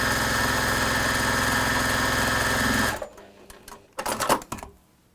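A sewing machine runs steadily and loudly as it stitches down the side of a fabric piece, then stops abruptly after about three seconds, followed by a few handling clunks and rustles.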